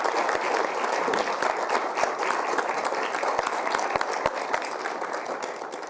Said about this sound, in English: I hope my colleagues will join us and the rest of us here in giving you a round of applause